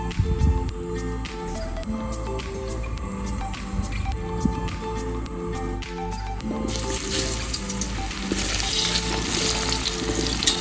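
Potatoes fry in mustard oil in a wok for a chicken and duck curry, a loud, steady close sizzle with stirring clatter that swells into a bright, intense hiss near the end.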